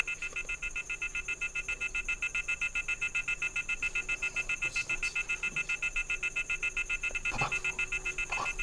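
A car anti-theft alarm blares continuously, a steady pulsing electronic tone repeating rapidly throughout, fairly loud and close with no talk over it.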